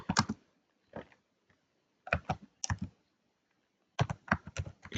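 Quick bursts of computer keyboard typing, as an email address is entered, come in short clustered clicks separated by brief pauses, close and clear in a quiet room.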